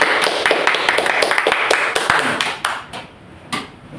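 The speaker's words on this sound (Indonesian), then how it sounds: "Tepuk tangan." A small audience at an Indonesian talk-show gathering claps to welcome a guest, brisk close claps that thin out and taper off into a few scattered last ones.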